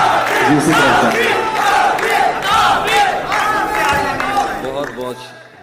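A loud, dense crowd at a mushaira poetry event in Dubai roars and cheers continuously, with clapping and shouting blending into a sustained wall of noise that fades near the end.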